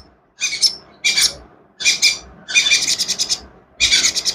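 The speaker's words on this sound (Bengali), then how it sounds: "দেখতে পাচ্ছেন অনেক সুন্দর করে খাচ্ছে পাখিটা" A hand-fed baby bird whose eyes have not yet opened gives loud, close bursts of shrill chirping, about five clusters of rapid cheeps separated by short pauses.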